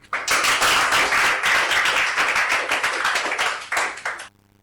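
Dense audience clapping at a political address rises quickly and holds for about four seconds, then thins out into a few scattered claps before it stops.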